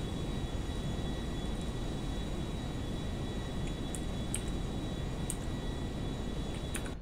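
Airplane engine in the GTA video game, a steady broad roar that holds loud and unbroken from start to finish, with a few faint high ticks near the end.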